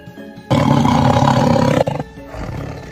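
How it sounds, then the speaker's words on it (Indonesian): Two tigers growl in a loud, deep, sustained roar that starts abruptly, then drops to a quieter rumbling growl near the end, used as a sound effect in a Javanese martial-arts story narration. "Yang kemudian terdengar adalah suara 2 ekor harimau menggeram."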